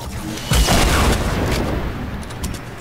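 An RPG rocket explosion in the game Fortnite, a heavy boom that erupts suddenly and then rumbles and crackles away over the following seconds.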